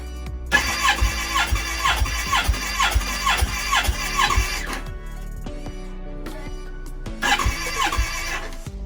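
A Kawasaki ZX14R engine cranks over during a compression test on a weakening battery: a fast, rhythmic chugging whir runs for several seconds, stops, then starts again briefly.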